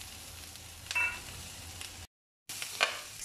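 Onion frying in a pan for japchae, a soft steady sizzle with a few clinks of a utensil stirring, briefly cut to silence before the sizzle resumes, close with no talking.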